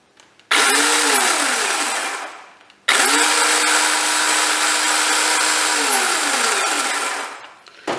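A Ryobi 18V ONE+ brushless cordless chainsaw revs up loudly twice, its electric whine holding steady before winding down each time, close and with no talking.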